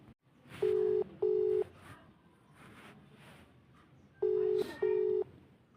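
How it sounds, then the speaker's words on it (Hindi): A phone call goes unanswered, heard as two pairs of loud electronic ringback tones separated by a pause, with faint talk underneath between the rings. "फ़ोन नहीं उठा रहा है, देखो नहीं।"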